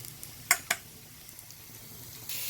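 Spice masala frying in a pan, with two sharp scraping clinks of stirring near the start and a faint, steady sizzle carrying on after them, quiet and close.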